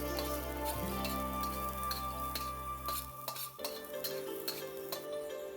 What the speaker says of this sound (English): Now let's add in the pepper flakes and the chopped garlic. Cook them until they are fragrant.